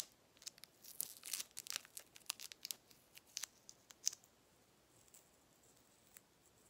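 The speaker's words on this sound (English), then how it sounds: "I used tape when I did so, and I rolled it like this." Adhesive tape is pulled and rolled by hand for a paper tie card, giving soft, close crinkling and tearing ticks in a busy cluster, then sparser light taps fading toward quiet.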